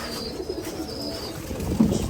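Pigeons at a farm coo in low, soft, throaty calls, close by, repeating over a constant background hum.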